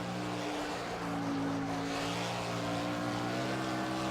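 Stock car engine roaring at full throttle in the Project CARS racing game, a steady sustained drone with strong low harmonics that hold and rise slightly as the car climbs a hill, loud and continuous with no talking.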